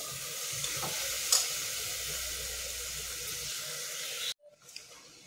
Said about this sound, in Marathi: या वाटण आधी व्यवस्थित आपल्याला हे परतून घ्यायचं आहे